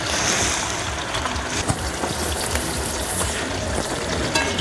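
Chicken gizzard pakoras fry in hot oil with a dense, continuous sizzle that stays close and even throughout, with no voices over it.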